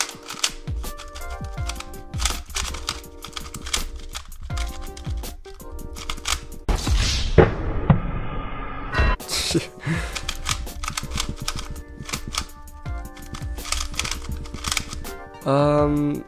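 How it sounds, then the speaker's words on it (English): A Senhuan Zhanlang 2x2 speed cube is turned by hand, rapid close plastic clicks in dense bursts with a louder rattling flurry in the middle, no talk. "Now let's do some first turns."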